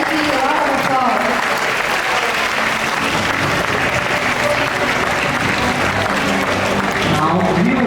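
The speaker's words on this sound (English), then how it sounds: "Let's give the Emcees a round of applause" Sustained audience applause at a student leaders' investiture ceremony, loud and continuous for the whole stretch, with crowd noise and some voices mixed in beneath the clapping.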